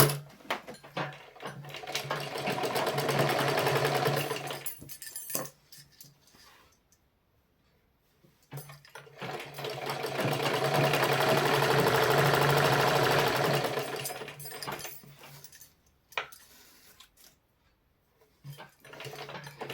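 Sewing machine running double stitching in two long bursts of steady motor whir, separated by pauses with small handling clicks and knocks, close and alone.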